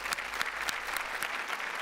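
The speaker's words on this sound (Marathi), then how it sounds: "एकदा जोरदार टाळ्या नंदेश दादा आणि उदेश दादासाठी झाल्या पाहिजेत." Audience applause on the set of a Marathi TV comedy show, a steady dense wash of clapping with sharper individual claps popping out, sustained throughout at moderate loudness with no talk over it.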